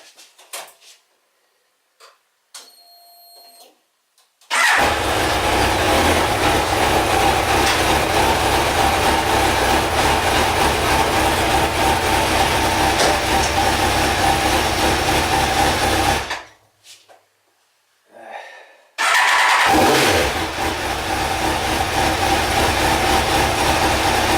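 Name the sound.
car engine being started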